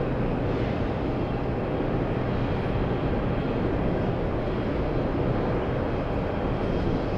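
Airliner accelerating hard off a runway at JFK airport after landing, a steady loud jet engine roar that holds constant throughout, broadband and close, with no voices.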